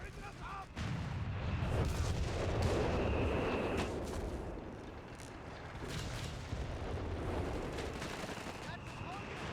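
An off-map artillery strike in a World War II real-time strategy match pounds continuously, deep booms and rumbling explosions rolling together in a sustained barrage with battlefield noise around them.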